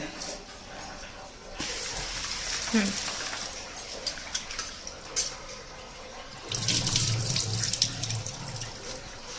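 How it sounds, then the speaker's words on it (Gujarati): Running water splashes into a bowl from a tap, with lentils being swished and rinsed, the flow growing louder toward the end. "હવે આપણે તેને બેથી ત્રણ પાણીએ ધોઈ કાઢવાનું છે"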